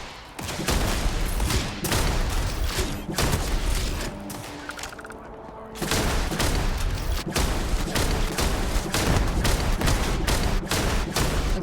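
Dense, loud gunfire in Starfield, rapid shots continuing almost without gap across the whole stretch, with one brief lull in the middle before the firing resumes just as hard.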